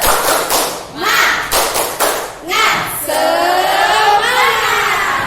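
A primary school class does a rhythmic spirit clap, a run of sharp group claps and thumps in a steady pattern, followed by children's voices chanting together loudly.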